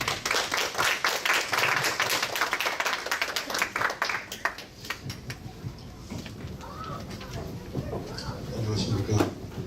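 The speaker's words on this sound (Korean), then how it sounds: "박수로 큰 환영해 주시기 바랍니다" A church congregation claps and applauds, a dense patter of many hands that thins out near the middle, with people talking over it.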